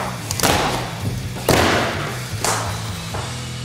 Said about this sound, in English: I love the sound of snapping wood in the morning.